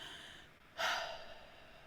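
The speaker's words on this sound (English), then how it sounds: "just taking a few big breaths." One deep breath, a soft airy rush that swells quickly and slowly fades against quiet background hiss.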